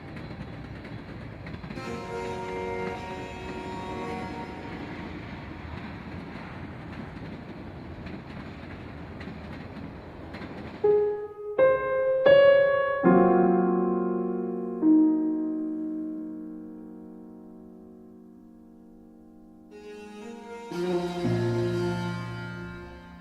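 A freight train rolls through Cadiz yard in the Mojave Desert with a steady rumble of cars, then sustained tonal wheel squeals ring out and fade before the rolling noise returns, heard from nearby.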